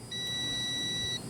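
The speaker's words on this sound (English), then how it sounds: "I don't know if you can hear that, but that's beeping" Steady continuous beep from a multimeter on continuity test as its two leads touch the ends of a single conductor during a backup power install, a high pure tone holding for about a second, close and alone.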